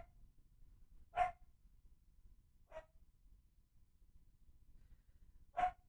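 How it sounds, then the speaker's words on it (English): Dogs in a modded Minecraft game bark three times, single short yaps spaced well apart, each one isolated against a quiet background. "Of course the dogs are barking."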